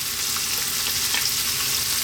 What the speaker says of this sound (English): Then to that we're going to add our onion. And our garlic.